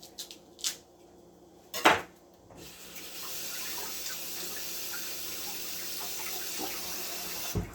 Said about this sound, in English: Washing my sweet potato,